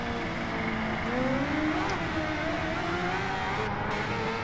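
A motorcycle engine in the Ride 2 racing game revs up loud and close, its pitch climbing steadily as the bike accelerates through the gears with no speech over it.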